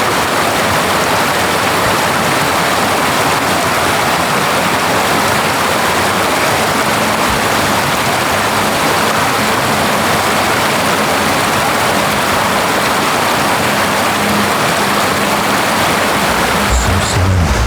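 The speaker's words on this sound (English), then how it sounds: "So this waterfall I think goes up to the other lake." A waterfall in the Lake District near Keswick and Borrowdale roars as a loud, continuous rush of falling water, steady and close for the whole stretch with no voices.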